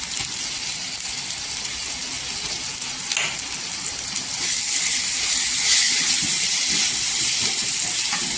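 Coconut masala sizzling in hot oil in a pan while making Koli-style ghol fish curry, a loud steady frying hiss throughout that swells a little toward the end, with no talking.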